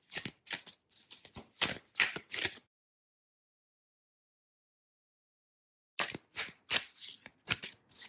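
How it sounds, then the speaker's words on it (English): Wanderer's Tarot cards are shuffled in two close, quiet bursts of quick riffling flutters, each a run of short papery riffs, with a few seconds of silence between the bursts. "I take my Wanderer's Tarot and I shuffle it."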